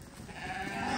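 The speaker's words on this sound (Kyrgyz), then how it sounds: "Мына койлор көрүнүп турат." Sheep in a farmyard pen bleating, a short faint bleat rising over low background noise of the yard.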